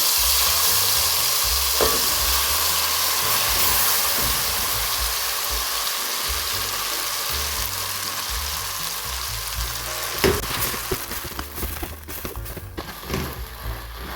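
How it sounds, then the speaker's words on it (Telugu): Raw ground masala paste fries in the oil left after frying paneer for paneer makhana masala, a loud steady sizzle with spattering that turns into clattering stir-scrapes toward the end. "ఇదే ఆయిల్లో మనం పేస్ట్ ఏదైతే కొట్టుకున్నామో పేస్ట్ వేసేస్తున్నాను"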